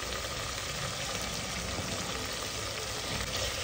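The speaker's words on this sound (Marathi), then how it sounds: "परत एकदा परतून घेत आहे" Onions with ginger-garlic paste and a pinch of asafoetida sautéing in a pan, a steady, dense sizzle that holds evenly throughout at close range, with no voices.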